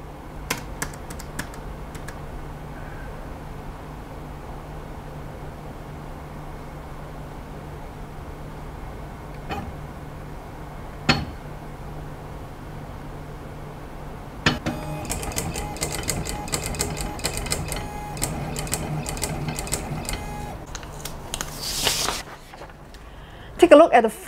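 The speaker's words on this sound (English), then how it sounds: "now I'm going to type 4 I's and 4 W and see what the machine will do." Keys tapped on a Chinese homework-writing machine, scattered clicks at first, then a long dense stretch of rapid mechanical chattering as the machine writes out the characters, ending in a louder burst of clatter.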